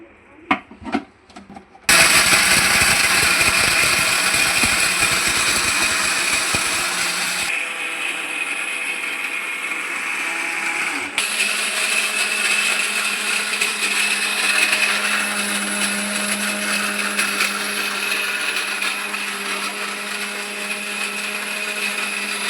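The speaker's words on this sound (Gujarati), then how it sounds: "હવે આપણે મિક્સરમાં ક્રશ કરી લઈશું" A mixer grinder crushes a cooled homemade prasad mixture for Ganesh Chaturthi, its motor whirring loud and steady for about twenty seconds after a few brief clicks and taps at the start.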